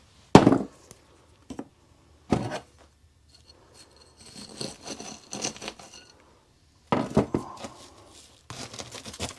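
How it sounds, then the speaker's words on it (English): Pruning shears snip through lavender foliage and spent flowers in a few crisp, close cuts separated by pauses, followed by quieter rustling of stems, with no talking. "Trim off any flowers. Cut back the foliage."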